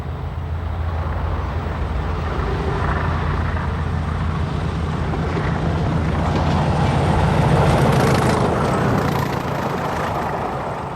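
A British Rail Class 20 diesel locomotive hauls an engineer's train east through Melton Mowbray, a loud, sustained engine drone with rumbling wagons, swelling slightly as it passes near.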